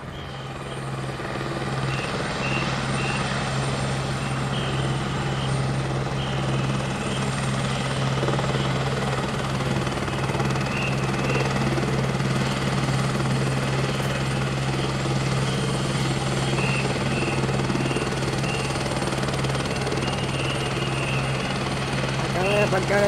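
A helicopter at a stage of the Vuelta a España cycling race, at Les Praeres near Nava, gives a steady rotor and engine drone filling the whole stretch, loud and continuous, with a constant low hum and no break.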